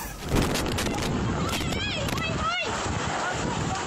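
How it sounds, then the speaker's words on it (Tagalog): Strong typhoon wind roars in Palawan during Typhoon Tino, a loud, steady rushing gust with buffeting against the microphone and some whistling tones, continuous for the whole span. "Halos matumba ang mga puno habang rinig ang malabuhawing lakas ng hangin dala ng Bagyong Tino."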